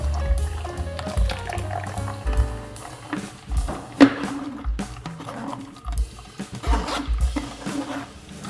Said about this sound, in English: got the juice flowing through the strainer